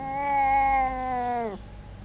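A single cat gives one long, tonal meow that holds steady and then drops sharply at the end, close and clear against a quiet background.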